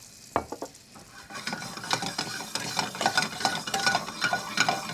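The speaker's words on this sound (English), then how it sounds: "we're going to let that butter brown up just a touch before we add in the mushrooms" Butter browns, sizzling and crackling in a pan, with a few clinks and stirring scrapes up close, the sizzle growing busier and more active.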